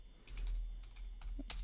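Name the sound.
typing on a computer keyboard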